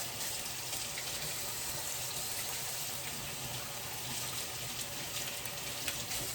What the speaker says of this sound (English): I usually keep my water running.